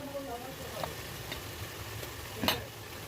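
Cumin paste goes into a pan of frying onion and garlic for a mutton liver and jackfruit dish, giving a soft steady sizzle with a few stirring clacks and one sharper scrape near the end, up close.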